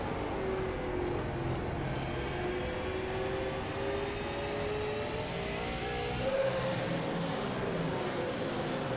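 Super late model race cars circle the South Boston track, their engines droning and rising in pitch as throttles ease on, a sustained somewhat distant roar with no talk.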